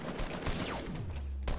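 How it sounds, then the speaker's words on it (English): Rapid gunfire in a Fortnite match, shots fired at a player through a window; dense crackling bursts with a sweeping whoosh, fairly loud and continuous, no talking. "They're shooting at me through the window."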